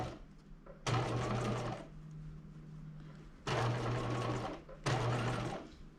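A sewing machine stitches a top up toward the zipper in three loud, close bursts of rapid mechanical whirring, separated by short pauses with a low motor hum.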